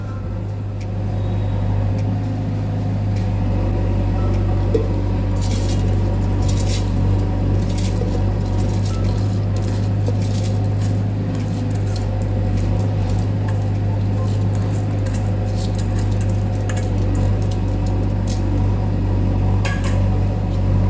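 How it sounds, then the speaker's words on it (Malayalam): A mixer grinder jar whirs steadily as it grinds soaked raw rice, with a loud, constant motor drone and faint rattling from the contents throughout, and no talking. "ഇത് നമുക്ക് മിക്സിയുടെ ജാറിലിട്ടിട്ട് നല്ലോണം അരച്ചു കൊണ്ടുവരാം"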